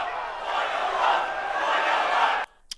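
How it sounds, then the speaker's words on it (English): A crowd at the UFC 322 press conference chants in unison, a loud, dense roar that holds steady for over two seconds, then cuts off abruptly into near silence with one faint knock. "if you weren't listening to the crowd there, oil them up, oil them up, oil them up is what they're chanting"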